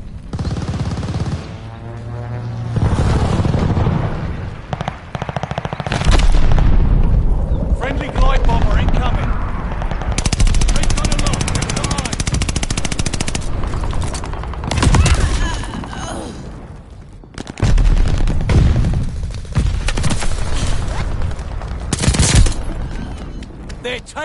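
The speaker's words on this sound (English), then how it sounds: "Allied airstrike coming in hot." In Call of Duty Vanguard Zombies, an allied airstrike and gunfire make sustained loud bursts of automatic fire and blasts. They come in rapid clusters with short gaps between them, and voices talk intermittently over the combat.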